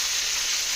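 Tomatoes frying in hot mustard oil tempered with nigella seeds, a steady bright sizzle close to the pan, brief and unbroken with no talking.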